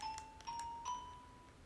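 A Minecraft note block on a gold block rings its bell tone, a few soft, clear chimes with a lingering ring, faint and heard alone.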